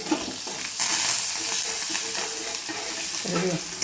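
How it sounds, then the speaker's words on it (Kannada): Garlic and cumin splutter in hot oil over a lowered flame for an avarebele palya, a continuous close sizzle with crackling pops and occasional scraping of a stirring spoon. "ಒಲೆ ಸಣ್ಣ ಮಾಡ್ಕೊಂಡು ಬೆಳ್ಳುಳ್ಳಿ ಹಾಕ್ತೀನಿ. ಸಿಡಿಯಾಕತ್ತೈತಿ"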